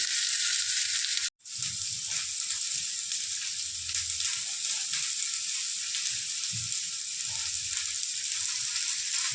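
Bitter gourd, potatoes and onions sizzle and fry in a pan, a steady crackling hiss broken briefly near the start, with soft stirring scrapes underneath and no voices.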